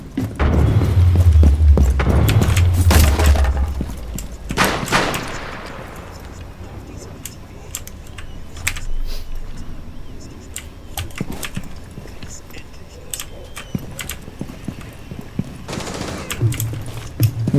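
Gunfire in Rainbow Six Siege, with heavy bursts early on, then scattered sharp shots and rattling fire, and another burst near the end, mixed with voices.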